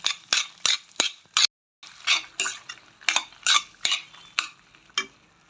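A utensil stirs penny pasta with chilli flakes and salt in a pan, making a run of sharp metallic scrapes and clinks in an irregular rhythm, close and clear, with a brief pause midway.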